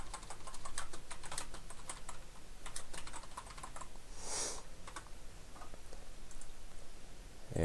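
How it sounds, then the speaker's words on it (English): Steady typing on a computer keyboard, a dense close run of quick key clicks over a constant background hiss, with one brief louder burst midway. "So I'm just going to type in a summary"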